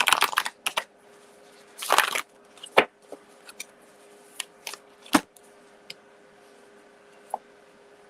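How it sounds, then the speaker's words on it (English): Tarot cards are shuffled by hand nearby, with several loud riffling bursts early, then lighter scattered flicks and taps trailing off into quiet. "Shuffle these a little bit and get one."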